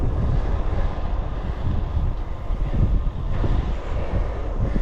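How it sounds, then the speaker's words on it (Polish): Steady, loud wind roaring across open fields and buffeting the microphone throughout, a constant low rumble with no pauses. "a wiatr jest taki teraz już konkretny na tych polach."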